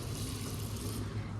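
A washroom tap at a highway rest stop in Kangra, Himachal Pradesh runs in a steady, loud, close gush that continues unbroken throughout, with no talking.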